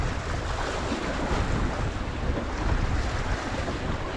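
Constant wind buffeting and rushing waves aboard a sailboat in strong Force 6 conditions, loud broadband noise with no pauses and no talking.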